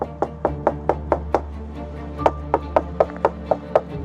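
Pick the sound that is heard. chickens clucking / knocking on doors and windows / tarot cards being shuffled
knocking on doors and windows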